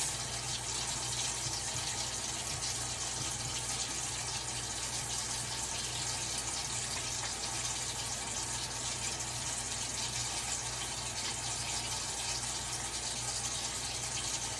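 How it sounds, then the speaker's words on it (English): A tap runs in a steady, even stream while hands are lathered with soap and washed. The water rushes continuously at moderate volume without pause, and no one speaks. "I'm going to lather in the palms of my hands for 15 seconds"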